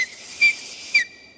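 A man imitates a whistle with his mouth, the signal given when bringing food to a dog: two short, sharp, high whistle blasts about half a second apart, loud and close against a faint hiss.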